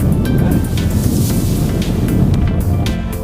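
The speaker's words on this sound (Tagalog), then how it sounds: "Matadala ka ng hangin, lakas. Lakas ang hangin." Strong wind on a small mountain near Las Vegas buffets the microphone in a loud, continuous rumbling roar with gusty swells and no speech.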